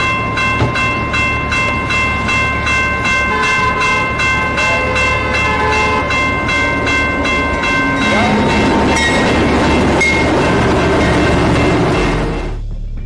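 A train speeds through an unguarded railway crossing in Geleen, Limburg, its rhythmic wheel clatter loud and near, with a horn sounding as it comes on, then a rushing roar that drops away at the end.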